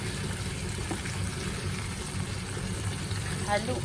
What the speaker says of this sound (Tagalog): Haluin lang po natin at huwag po natin overcook ang ating ampalaya para masarap.